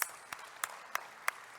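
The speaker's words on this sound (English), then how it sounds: "Can we have a big round of applause" Sparse clapping for panelists at a technology conference, a handful of distinct claps in an even, unhurried rhythm, close and fairly quiet, with no voices.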